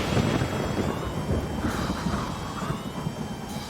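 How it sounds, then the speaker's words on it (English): Night thunderstorm with steady rain and deep rolling thunder rumbling continuously, loud and close, no voices. "That night, there's a storm."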